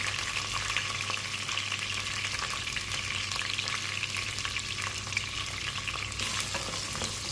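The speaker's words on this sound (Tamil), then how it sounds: "நல்லா வதங்கட்டும் நல்லா வதங்கட்டும் வதங்கிடுச்சு ஓரளவுக்கு" Garlic, onion, curry leaves and vegetables sauté in a pan for vathal kuzhambu, a steady close sizzle and crackle of frying with light stirring throughout, no talk.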